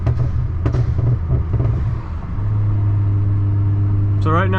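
BMW 535i with a burble tune crackles and pops in an uneven patter over a low exhaust rumble, then settles into a steady droning hum before a voice comes in at the end.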